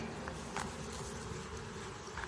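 Honeybees buzzing steadily around an open hive during an inspection, with drones among the workers on the frame; a continuous close drone-like hum with a few faint brief rustles.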